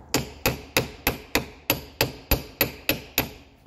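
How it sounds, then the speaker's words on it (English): A small hammer taps a socket during truck maintenance, eleven sharp metallic knocks struck at a steady, even pace, close and clear, each ringing briefly before the next, with no talking. "we'll come in here with a socket and then not a big hammer, just a little tappy tap"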